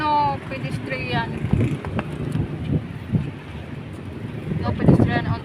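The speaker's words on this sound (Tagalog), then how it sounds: "Ang lakas ng hangin." Strong wind buffeting a microphone outdoors beside a road with passing traffic, heavy low rumbling gusts rising and falling, with people talking over it at moments.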